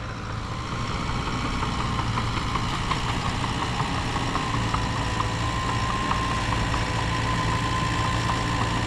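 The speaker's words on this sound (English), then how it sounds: "Got the loader here now, he can start shuttling." A loader works at a parking lot construction site, pushing old road base full of asphalt. Its engine drones loud and steady throughout, with continuous rumble and mechanical clatter and no pauses.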